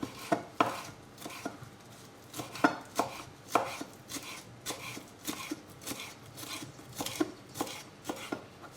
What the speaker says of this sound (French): On peut le hacher grossièrement